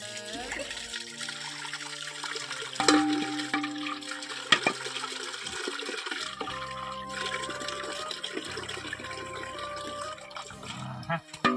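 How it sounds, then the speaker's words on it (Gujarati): Water runs and splashes into a container for several seconds, steady and fairly close, with people talking over it. "પાણી પેલા થોડું ભર દઉં"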